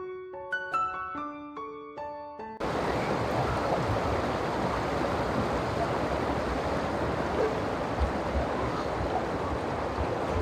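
A mountain river rushing in a hilly village setting during a crossing, a broad, steady roar of flowing water that starts abruptly after a short musical chime and carries on loudly to the end.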